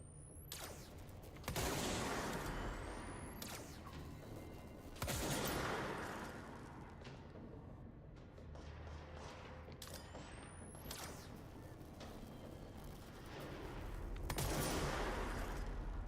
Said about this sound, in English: That was my first official sniper shot.